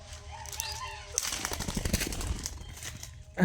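A pet bird flaps its wings in a short burst of soft, rapid fluttering close by, after a moment of quieter room sound and chirpy background noise.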